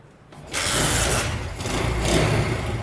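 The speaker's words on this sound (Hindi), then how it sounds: "अब हम बाइक को स्टार्ट कर लेते हैं।" A 70 cc motorcycle engine, just after a carburetor service, cranks and catches, then settles into a loud, steady running rumble with no voices.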